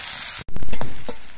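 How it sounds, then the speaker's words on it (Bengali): Onions hit hot oil in a pan with a loud sizzle right after a brief silence, and the sizzle carries on with stirring scrapes and crackles close by. "পেঁয়াজগুলো দিয়ে একটুখানি সময় ভেজে নিতে হবে।"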